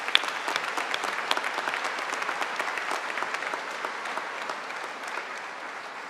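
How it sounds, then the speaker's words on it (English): A large audience at a college commencement ceremony applauds the graduates' families with dense, sustained clapping, loud at first and easing slightly toward the end. "I think it's time for a big round of applause for the families of all the"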